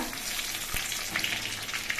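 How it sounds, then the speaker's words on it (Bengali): Two bay leaves hit hot oil in a wok after prawns were fried, giving a close, steady crackling sizzle throughout with one brief sharp pop partway through. "এবার কড়াই তেলের মধ্যে দিচ্ছি দুটো তেজপাতা"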